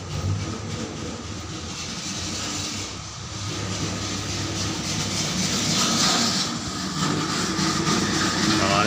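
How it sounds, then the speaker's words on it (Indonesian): Two coconut grating machines shred coconut for bubur asyura at a community cooking event, a loud, continuous mechanical whir and rattle running steadily throughout with no pauses. "dua mesin kelapa untuk memarut kelapa ni"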